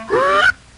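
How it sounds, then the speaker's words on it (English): A single loud goose-like honk from a large bird in an old Laurel and Hardy comedy, short and nasal with a rising pitch, heard alone and close up, then cut off abruptly. "Look, Ollie, the bird's back."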